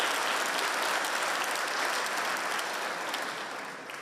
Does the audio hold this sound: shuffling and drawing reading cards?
no